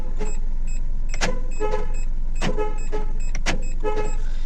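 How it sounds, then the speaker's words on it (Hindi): A Hyundai Grand i10 Sportz diesel (2013) horn gives several short chirps and toots at irregular intervals while the car locks, over a steady low engine hum, close by. "अब हॉर्न की साउंड सुनना, ठीक है।"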